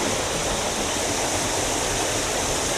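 A waterfall near Gelendzhik, reached by a descent toward a steep drop, roars in a steady dense rush of falling water. It sounds close and loud, with no break and no voices.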